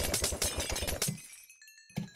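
An enemy base in Minecraft being blown up: a loud, dense run of crunching, shattering blasts and debris for about a second, then a near-silent gap with thin ringing tones before one more sharp hit.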